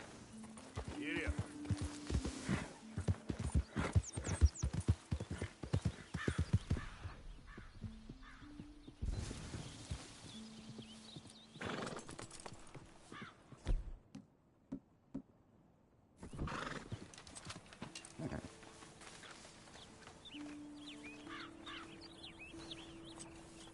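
Horse hooves clip-clopping in the video game Red Dead, a rhythmic run of hoof beats with game sounds and occasional talk over it, fading in and out across the stretch.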